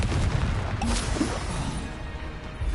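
Confringo spell blasts go off in Hogwarts Legacy combat, dull booming bursts set in a dense, continuous wash of battle noise, with no clear separate impacts standing out.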